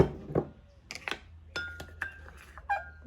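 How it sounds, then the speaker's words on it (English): Two cups of frozen blueberries tumble into a pot of spiced apple porridge, giving a few sharp, separate clinks and rattles against the pot, near and fairly quiet, with no talk. "So there's my 2 cups of frozen blueberries."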